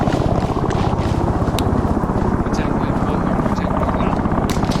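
Helicopter in the military game ArmA 3, its rotor thumping in a fast steady beat throughout, loud and close, with radio chatter over it.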